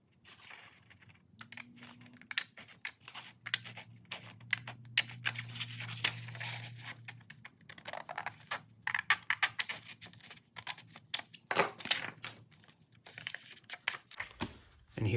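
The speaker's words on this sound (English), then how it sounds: "And then I'm gonna cut the edges." Scissors trim the edges of a folded origami paper square: a quiet, irregular run of crisp snips and light paper rustles, with a soft low hum in the first half and no talking.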